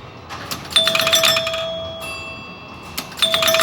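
Solenoid-struck chimes of an old pinball machine ring out as bright bell tones, one sustained ding near the start, a second chime partway through and another at the end, with metallic clatter around them.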